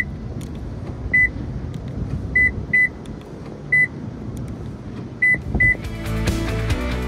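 Toyota Agya buzzer response set to its loudest level, sounding short high electronic beeps singly and in quick pairs at irregular intervals over a steady engine and cabin hum, ending in a louder broadband rush.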